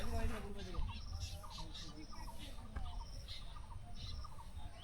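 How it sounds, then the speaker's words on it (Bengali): Birds calling with chirps and an insect drone from crickets around a tea garden in a Khasia village at Jaflong, Sylhet, steady and moderately distant under faint background noise. "আশেপাশে ঝিঝি পোকা, পাখি, সব কিছু মিলাই সাউন্ড একদম পুরা অসাধারণ।"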